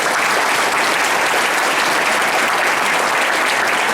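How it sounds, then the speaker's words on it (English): A large audience at a college graduation ceremony in Colorado Springs applauds in a steady, dense roar of clapping that stays loud and even throughout, with no voices standing out. "Let's give them a big round of applause."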